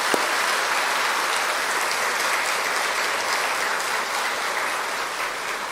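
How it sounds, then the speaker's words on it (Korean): Full, sustained applause from a seminar audience in a large room, an even hiss of many hands clapping at a steady volume with no speech over it. "감사의 박수 한번 보내주셨으면"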